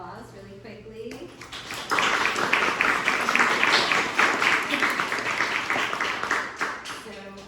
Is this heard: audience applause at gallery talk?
yes